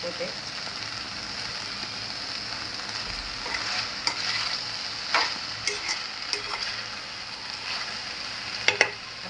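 Okra (bhindi) cooks in a pan with a steady sizzle, while scattered scraping clicks mark stirring that grows more frequent toward the end, close by.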